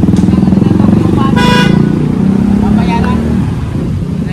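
Motorcycle tricycle engine idling and puttering on a busy street with short horn toots, close and fairly loud, while people talk over it.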